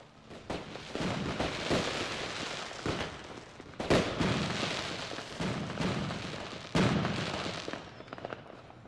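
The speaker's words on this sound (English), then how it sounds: "Fireworks on Mars." Fireworks going off over a Martian colony in the game Surviving Mars: a dense run of crackling bursts and sharp pops, with heavier booms near the start, middle and end, all loud and continuous with no talk.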